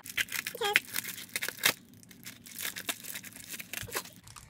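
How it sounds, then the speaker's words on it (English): Scissors snip and tear through a beauty subscription box's packaging up close, with crinkling plastic and a few sharp cuts in irregular bursts. "I'm just gonna use scissors and get that."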